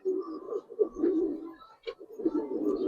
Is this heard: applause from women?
no